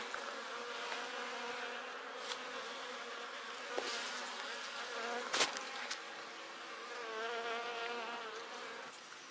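Dense, continuous buzzing of many honeybees at their hive fills the air close by during honey harvesting, a steady droning hum with occasional louder passes of individual insects.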